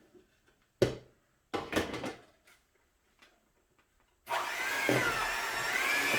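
Sugar cookie dough being stirred with added flour mixture in a bowl: scattered soft knocks and scraping thumps, then a steady whirring motor-like mix sound that continues to the end.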